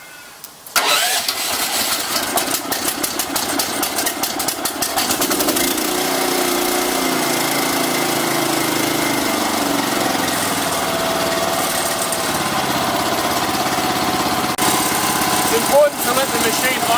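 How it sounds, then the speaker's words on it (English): A gas pressure washer engine catches after about a second, roars up briefly, then settles into a loud, steady mid-pitched idle that runs for the remaining time with no interruption. "To start the machine, squeeze the trigger of the gun and at the same time"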